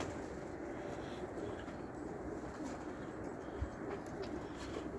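Vienna pigeons coo softly in a low, steady murmur in a crowded loft, with faint flutters and scratching around them and no clear talking.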